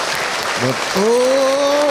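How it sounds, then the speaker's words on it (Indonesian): A religious lecture audience claps briefly in the background while someone speaks a short word over it, the clapping a soft, steady patter under the voice. "Tepuk tangan buat kita semua ya"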